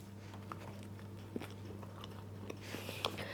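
Someone bites and chews sourdough focaccia topped with bolognese sauce, faint crunchy bites and soft chewing close up over a steady low room hum.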